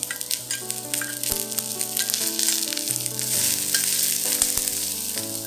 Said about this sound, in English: Fry all these aromatics for about 30 seconds.